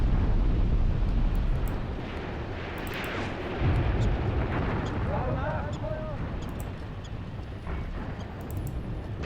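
Artillery fire booms in a WW2 Eastern Front battle game, heavy rumbling blasts layered with roaring wind-like noise and distant whistles, while a voice talks over it.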